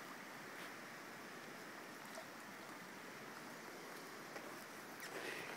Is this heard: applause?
no